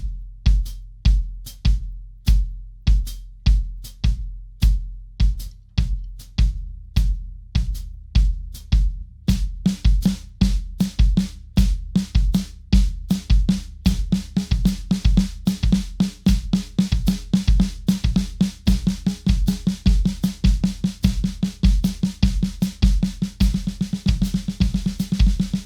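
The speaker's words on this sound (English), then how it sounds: "the hi-hat will be on quarter notes, and the kick drum will be playing a dotted 8th note" Drum kit foot pattern with hi-hat on steady quarter notes and kick drum on dotted eighths, played alone as a sharp, repeating pulse that grows denser and brighter partway through, ringing cymbal wash building over the thudding kick.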